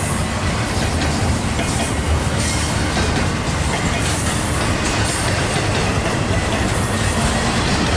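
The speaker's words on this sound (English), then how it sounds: "then we got a work train." A work train led by an SD40-2 locomotive rumbles past at close range, a loud and steady wash of rail noise with wheel clatter and squeal lasting the whole stretch.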